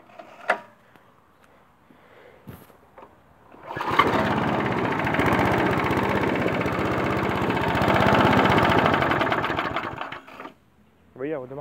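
Small lawn mower engine restarting after a pull and settling into a steady idle, a loud mechanical rattling drone for several seconds before cutting out, with handling clicks and a brief voice around it.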